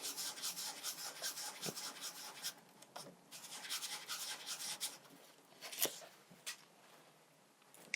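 Wax block rubbed on 600 grit sandpaper in a figure-of-8 motion, a soft continuous scratchy rasp with quiet pauses, close and faint, no talking.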